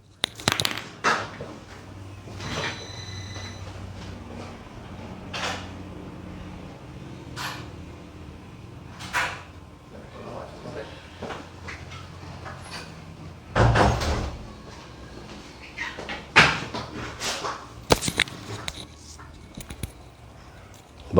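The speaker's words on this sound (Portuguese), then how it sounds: "eu preciso fechar uma porta aqui porque tocou a campainha" A door closes in an office during a live stream, landing as a loud thump mid-clip with a few softer knocks and bumps around it over a quiet room.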